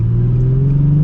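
A manual-transmission car pulls away in first gear, its engine drone close and loud and rising slightly in pitch through a brief acceleration.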